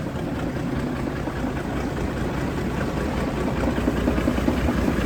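A large wood chipper's engine runs steadily nearby, a continuous low rumbling drone that holds at an even, loud level throughout.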